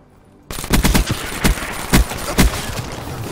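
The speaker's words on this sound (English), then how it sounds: "I just sniped some dude." Gunfire in the Black Ops 3 video game begins abruptly and continues as a run of loud, punchy shots about half a second apart over a constant background rumble.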